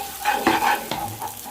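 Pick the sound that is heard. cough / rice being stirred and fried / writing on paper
rice being stirred and fried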